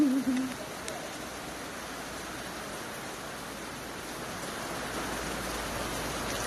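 Heavy rain falling outdoors during a run, a constant, fairly faint hiss of downpour throughout, with a brief low hooting voice-like sound at the very start.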